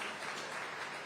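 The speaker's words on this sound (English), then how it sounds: "Big round of applause for Chase Sexton" Press conference audience applauding for motocross rider Chase Sexton after a SuperMotocross playoff race in Fort Worth, Texas; a brief, steady wash of clapping at moderate distance, no voices over it.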